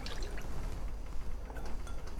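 Coconut cream poured into a cooking pot, a soft continuous liquid pour with faint drips and a light clink, close and quiet throughout.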